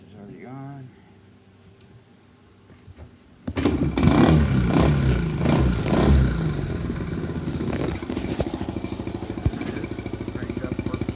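A motorcycle with a freshly done valve job cranks and fires up, jumping from near silence into a loud, close engine roar that settles into a steady, rapidly pulsing idle with clattering mechanical noise.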